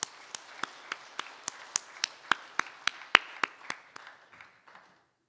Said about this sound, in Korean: 한번 큰 박수 부탁드리겠습니다.